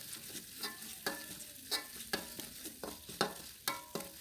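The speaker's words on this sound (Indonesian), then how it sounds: "Setelah panas ditumis bumbu yang udah diulek tadi ya" Ground spice paste sautés in hot oil with a low, close sizzle, punctuated by regular scraping strokes of a spatula stirring it about twice a second.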